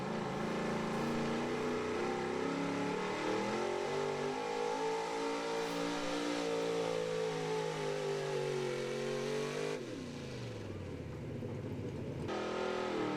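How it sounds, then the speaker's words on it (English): A 1974 Ford pulling truck revs hard at an outdoor truck and tractor pull, its engine a loud, sustained roar with rising and falling pitch that suddenly drops near the end. "Next up's Jason Waddington, 1974 Ford he calls Violet, from Nicholson, Pennsylvania"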